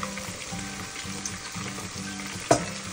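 Pinakbet vegetables sizzle and fry in a pan with pork belly while being stirred, a busy crackle with rhythmic scraping strokes repeating about every half second and one sharp clatter near the end.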